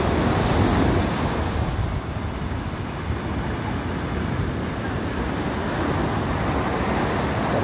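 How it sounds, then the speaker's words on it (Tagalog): Ocean waves break continuously on the sandy beach at San Juan, La Union, a broad rumbling wash of surf that swells slightly at the start, mixed with gusty wind noise on the microphone. "Grabe yung mga waves."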